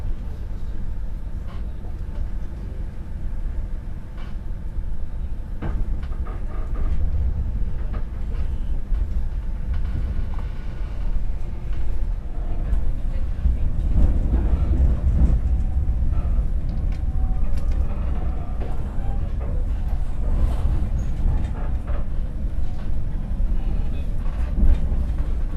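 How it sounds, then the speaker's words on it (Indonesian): Pandalungan passenger train pulling out of Jember station, a steady low rumble and rolling hum from inside the carriage that swells slightly midway, with faint background voices. "kereta api Pandalungan yang saya naiki sudah diberangkatkan dari stasiun Jember"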